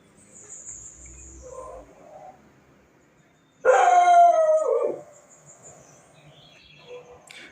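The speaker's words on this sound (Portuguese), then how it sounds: "o cachorro começou a latir" Dog barking and howling indoors during an online Portuguese lesson, one loud sustained burst in the middle after quieter background noise, heard alone without talk.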